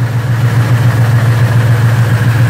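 A 1990 Dodge D150 LE two-wheel-drive pickup engine idles steadily and smoothly with a deep, even low rumble, close and continuous, with no knocking or ticking and no talking.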